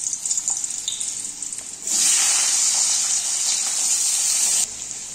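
Potatoes drop into hot white oil tempered with black cumin in a kadai, setting off a loud, sustained, close hiss of sizzling that carries on steadily for a few seconds before easing slightly.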